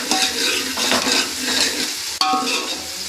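Fish curry is stirred and fried in a pan, giving a steady close sizzle with continuous scraping strokes and a brief clink of a utensil against the pan near the end, without any talk.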